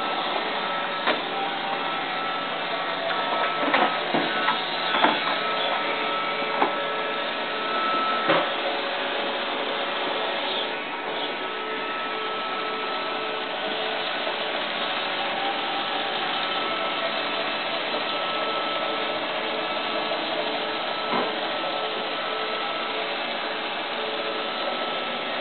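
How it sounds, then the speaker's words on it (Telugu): A Roomba robot vacuum cleaner runs across carpet, giving a steady, fairly loud motorized whir and brushing hum with a few brief knocks and clicks as it moves, continuous throughout with no talk. "రూంబా అని ఒక mobile automatic carpet cleaning machine ఉంది, మన వ్యాక్యూమ్ క్లీనర్ లాగా."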